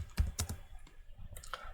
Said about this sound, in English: we need to type git